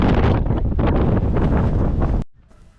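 Strong wind on a Mustang trek buffets the microphone with a loud, continuous roar for about two seconds, then cuts off abruptly into quiet.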